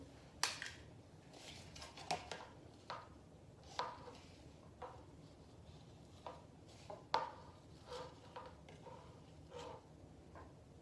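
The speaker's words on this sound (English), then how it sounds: "Kind of using the butter knife here to take out the mayonnaise that's stuck in the tablespoon" A butter knife scrapes mayonnaise out of a metal tablespoon while making ham and cheese wraps, producing faint, irregular clicks and light taps of metal on metal against quiet kitchen background.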